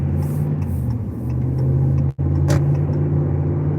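A Ram pickup truck drives along with a steady, close engine and road hum, a brief dropout midway, then continuing under cabin noise with no speech.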